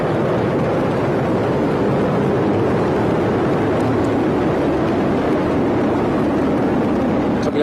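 Falcon Heavy rocket with 27 Merlin engines roars at launch, a dense, loud broadband rumble that holds steady without a break and fills the whole stretch.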